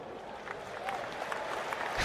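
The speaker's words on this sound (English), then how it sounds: "Animated applause around the ground as Andrew Strauss brings Stuart Broad into the attack." Steady applause from a large cricket crowd at Lord's, spread around the open ground, distant and continuous, with faint voices mixed in, as a bowler is brought into the attack.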